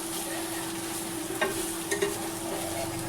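Bitter gourd fry with lemon juice being tossed in a pan, a constant low sizzle with a couple of brief spatula scrapes and clatters, close up and without speech.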